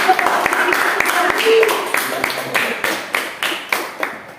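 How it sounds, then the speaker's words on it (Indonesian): Students in a classroom clap in applause, a burst of sharp hand claps that thins into scattered, spaced claps over a few seconds, with a voice talking over the start. "tepuk tangan dulu"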